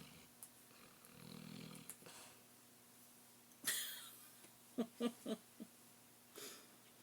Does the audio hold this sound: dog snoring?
yes